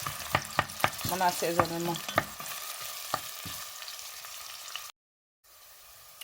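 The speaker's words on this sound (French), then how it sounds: "Et je laisse l'oignon caraméliser juste un peu avant de rajouter" Onions caramelizing in a pan for a Soumara lafri recipe, with clattering stirring strokes over a steady sizzle, then a brief silent gap before the frying hiss resumes more quietly.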